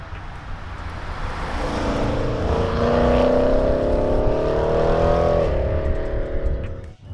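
A Ford Mustang GT fitted with a Borla Touring catback exhaust with quad tips cruises at low revs, a deep steady engine drone that swells and rises slightly in pitch mid-clip, heard from inside, with no talk.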